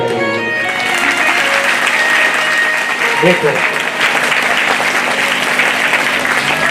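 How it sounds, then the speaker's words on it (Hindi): A Bhagavat Katha audience breaks into loud, sustained clapping, a dense ringing applause that fills the hall and keeps going, with a voice briefly heard through it. "एक बार आप लोग अपने लिए ताली बजाइए।"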